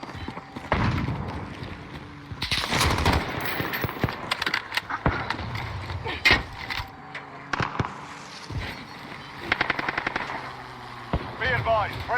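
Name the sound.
video game sentry gun firing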